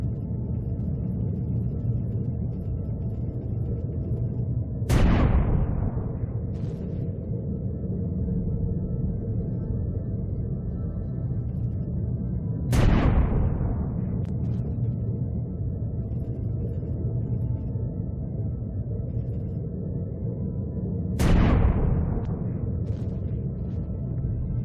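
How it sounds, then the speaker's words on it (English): Anti-aircraft turret and artillery fire in the sci-fi game Empyrion Galactic Survival: three heavy booms with long decaying tails, spaced several seconds apart, over a constant low mechanical drone. "that's an anti-aircraft turret trying to shoot at us"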